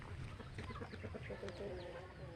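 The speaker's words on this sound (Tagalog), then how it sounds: "Mga manok." Chickens clucking nearby in a busy, overlapping chorus of short, throaty calls with a little faint background chatter.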